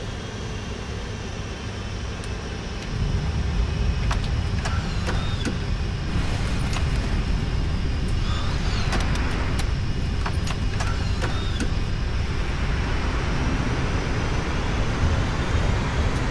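A PMDG 747-400 in a flight simulator lands with reverse thrust, its engines giving a loud, continuous roar that deepens and swells into a heavier low rumble after the first few seconds and holds steady to the end.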